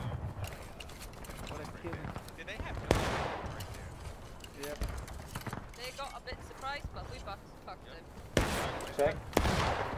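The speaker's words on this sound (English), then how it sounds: "That was a very nasty volley," Musket volleys and scattered rifle shots in the American Civil War game War of Rights, loud cracks and bursts rising over a busy battlefield din with a voice talking throughout.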